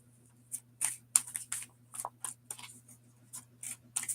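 Tarot cards being shuffled by hand, a series of crisp riffling and slapping bursts in an irregular rhythm, close and fairly quiet over a faint steady hum.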